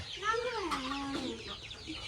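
Hens cluck softly in a quick, warbling sequence, close by, then fade into quieter background chatter of the flock.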